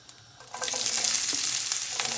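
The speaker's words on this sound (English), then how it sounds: "medium to large onion chopped, and fry till it gets translucent" Chopped onion frying in a hot pan with a little urad dal, a steady close sizzle that swells after a soft start and carries faint stirring scrapes throughout.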